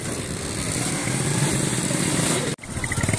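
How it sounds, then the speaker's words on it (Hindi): A motorcycle arrives on a road near a cricket ground: a close, steady engine drone with a light buzzing whine for a few seconds, then a brief cut and a sputtering, pulsing idle. "बाइक आ रही है हमारी"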